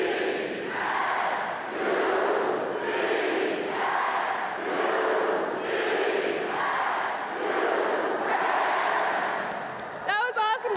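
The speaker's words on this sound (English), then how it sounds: "we're going to yell Rams all together" Large crowd of new university students at a welcome convocation yelling the Rams chant together, a series of loud rhythmic collective shouts repeating about once a second, with a voice briefly over the end.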